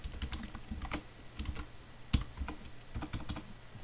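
Rapid typing on a computer keyboard, with irregular clusters of crisp key clicks and a few harder strokes, close and fairly quiet with no talking.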